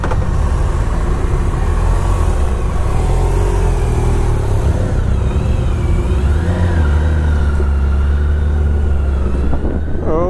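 A 2018 BMW K1600 Grand America motorcycle engine pulls hard under acceleration in dynamic mode, a loud, steady close-up roar whose pitch climbs and shifts through gear changes, with rushing wind underneath.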